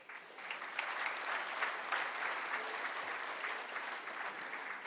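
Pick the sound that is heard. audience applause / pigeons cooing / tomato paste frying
audience applause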